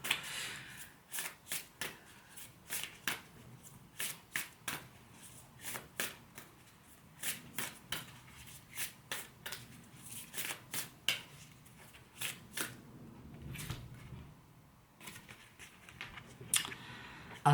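Cards from a 13 Moon oracle deck are shuffled by hand in a long run of crisp, rapid riffles and taps, roughly evenly paced, close but fairly quiet, with no talking.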